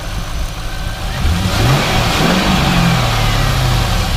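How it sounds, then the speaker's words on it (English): A nearby 2002 Pontiac Trans Am engine revs up from idle, rising and falling in pitch through a couple of throttle pushes, loud and continuous. "We'll go ahead and start it real fast. You can hear it run. Go ahead and rev it up."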